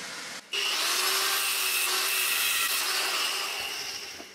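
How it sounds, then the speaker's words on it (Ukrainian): A hacksaw cuts through a small piece of metal clamped in a bench vise, with steady back-and-forth strokes running loud and close throughout, after a brief pause at the start; no one speaks. "Спробуємо це діло відрізати у лещаток."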